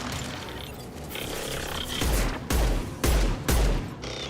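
Pistol gunfire in the video game Mass Effect 2, heard as four heavy, booming shots spaced about half a second apart over a dense background of combat noise.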